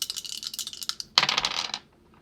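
Dice being re-rolled in the video game Dice Trial, a quick patter of small clicking rattles that leads into a brief, louder clattering tumble and then quiet.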